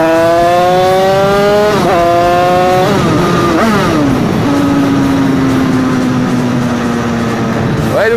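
A Derbi 88cc Stage6 moped, running rich, screams through a corner, its high-revving two-stroke engine pitch dropping on the shift and then sustaining a steady, loud whine close to the rider.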